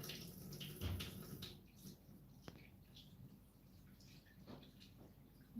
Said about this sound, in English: So just give them a bit of a rinse here.